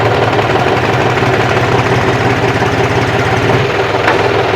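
An old tractor's engine idles in top gear loudly and steadily up close, a rhythmic diesel chug with heavy vibration and no voices.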